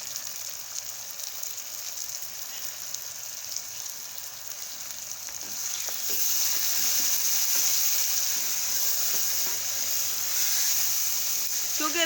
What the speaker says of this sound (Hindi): अब हम इसमें जो है 3 अदद टमाटर ऐड कर रहे हैं